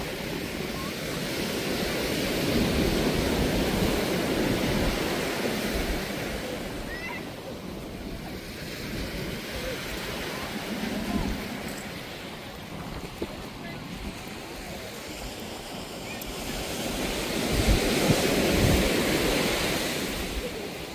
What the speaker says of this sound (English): walking on the side of the beach